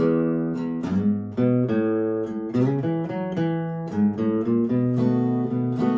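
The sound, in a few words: guitar blues turnaround lick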